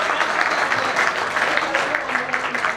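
Audience clapping at a Hindi poetry recitation event, a continuous moderate burst of many hands applauding throughout the short stretch.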